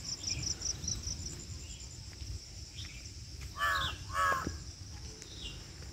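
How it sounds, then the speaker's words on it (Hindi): A crow caws twice in quick succession outdoors near farm fields on a morning. Constant cricket chirping runs underneath, along with a few faint distant bird calls. "कौवा भी काँव काँव कर रहा है"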